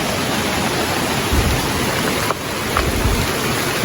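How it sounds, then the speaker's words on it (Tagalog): Steady, loud rain pours down near a bridge in Bukidnon, a dense unbroken hiss with low rumbling underneath, and no voices. "Naabutan kami ng ulan mga idol."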